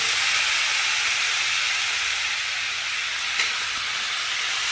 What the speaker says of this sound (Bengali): এবার আমি পুঁই শাকগুলো অ্যাড করে দিই এর সাথে